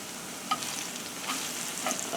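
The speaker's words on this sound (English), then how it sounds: "Doesn't take long, Simple Life, to fry the plantains." Ripe plantains, cooked from frozen, fry in hot oil with a steady close sizzle and a few sharper pops and spatters, without any talking.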